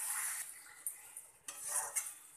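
A masala paste of cashew, onion and tomato is stirred in a pan for kadai paneer, making soft scraping and a low sizzle with a few light clinks of a utensil against the pan, faint and close.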